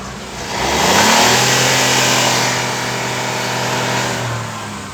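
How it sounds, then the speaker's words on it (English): Kia Picanto GT 2021 engine revving in neutral, rising steadily from idle to a loud, sustained high rev before easing back slightly, heard up close with no talking. "Let's give it a rev."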